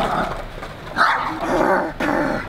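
A dog barks and growls in short, close bursts at a skate spot by a harbour, several rapid outbursts in a row with no voices.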